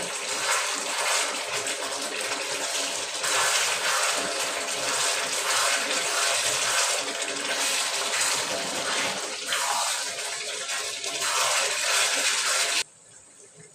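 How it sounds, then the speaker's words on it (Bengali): Boiled hot water pours steadily into a cooking pot, a loud continuous gushing splash lasting about thirteen seconds before stopping abruptly near the end. "এই যে আমি ফুটানো গরম পানি দিয়ে দিচ্ছি।"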